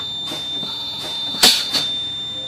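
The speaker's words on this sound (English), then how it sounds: "I hear the buzzer, but I didn't see the light come on the dash." A steady, piercing, high electronic warning buzzer sounds continuously in a truck cab during a low air pressure check, broken by a few sharp clicks and clunks.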